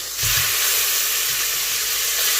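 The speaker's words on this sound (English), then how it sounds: "that's the second set of breasts seared" Chicken breasts sear in a hot frying pan, giving a loud, steady sizzle and hiss that fills the whole moment, with a few low clunks from the pan at the start.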